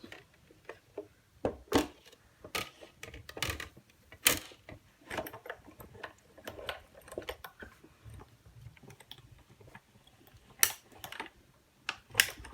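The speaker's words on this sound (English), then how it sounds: "So that cracking sound is totally normal, so don't worry about that if you're new to die cutting" A die cutting machine makes irregular sharp cracks and clicks over a faint mechanical rumble, scattered at uneven intervals and fairly quiet overall.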